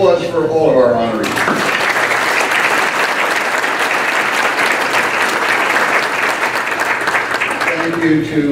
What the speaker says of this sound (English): round of applause for all of our honorees